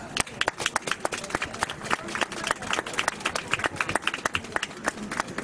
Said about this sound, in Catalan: I els demanaríem fort aplaudiment.